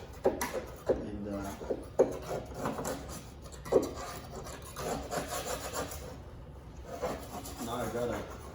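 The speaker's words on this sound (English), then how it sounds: "now I gotta scrape all this thing off" Old adhesive-backed hood insulation is scraped off the underside of a car hood, with repeated rough rasping strokes and sharp scrapes coming close and irregular over several seconds.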